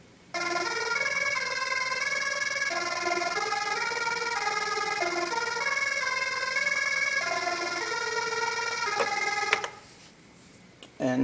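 MicroKORG synthesizer playing a song: a steady, bright melodic synth line of stepping notes runs for about nine seconds, then stops abruptly, leaving near silence before a brief final sound.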